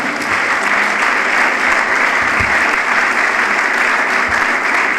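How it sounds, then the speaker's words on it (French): A crowd at a political rally in Kinshasa bursts into loud, sustained applause, a dense even roar of many hands clapping close by throughout. "Je veux que vous puissiez d'abord vous applaudir parce que vous êtes des vaillants."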